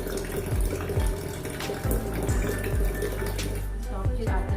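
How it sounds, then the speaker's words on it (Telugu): Water pours with force from an automatic water dispenser in a steady, continuous rushing stream that stays loud throughout. "బాగా వాటర్ అయితే కనుక మనకి ఫోర్స్గానే వస్తుంది దీంట్లో నుంచి."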